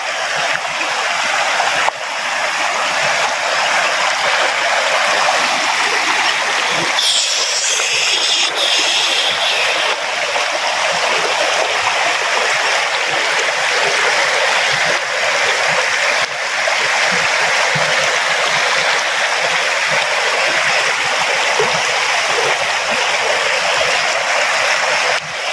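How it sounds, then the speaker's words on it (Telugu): A monsoon-season waterfall stream rushes down through the Udayagiri hills in Nellore district, a steady, loud, continuous roar of flowing water that fills the whole scene without pause. "నీళ్ళు చూడండి ఎలా పోతుండే కిందకి."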